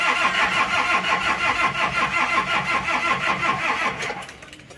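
A Toyota Kijang diesel engine cranks and runs on a cold morning, a steady rattling churn that holds for about four seconds before trailing off quieter near the end.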